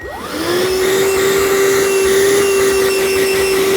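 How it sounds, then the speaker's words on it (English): Hercules wet/dry vacuum switching on and spinning up, then running with a loud, steady whine and airy roar close by, no voices. "this is a wet dry vac"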